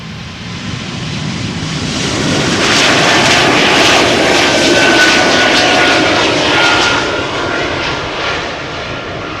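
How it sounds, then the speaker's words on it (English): An Embraer E2 jet bound for Copenhagen takes off from Schiphol's Polderbaan runway, its loud engine roar swelling, holding steady at full power, then easing slightly as it passes close by, with no voices. "And we have an E2 Embraer coming this way. Going to Copenhagen."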